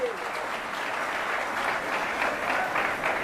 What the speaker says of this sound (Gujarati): ખૂબ તાળીઓથી વધાવી લઈએ.